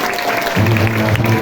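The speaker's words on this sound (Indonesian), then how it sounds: "Tepuk tangan untuk teman kita" Students at a Ramadan Quran recitation gathering clap for a classmate, a short round of applause that swells partway through, with a low hum rising under the clapping.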